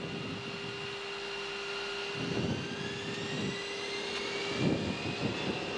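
Airbus A340 jet engines spool up during takeoff from St Maarten, heard from the cockpit as a steady rising whine and rumble. Faint intermittent bursts sound beneath it.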